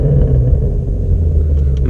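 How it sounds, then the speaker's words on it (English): A 2017 Ford Mustang Shelby GT350 engine with its exhaust valves closed, giving a loud, deep, muffled rumble that holds steady and near for a couple of seconds with no voices. "I'm gonna rev it a little bit with the valves closed and then open so you guys can see the difference"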